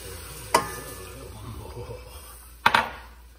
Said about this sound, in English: So we're taking the milk and adding that.